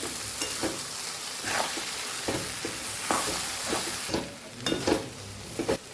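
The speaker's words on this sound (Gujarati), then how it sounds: "સરસ આપણે મિક્સ કરી દઈશું" Potato poha being stirred in a pan, Kathiyawadi style: repeated scraping strokes over a steady low sizzle, close and moderately loud, with no voices.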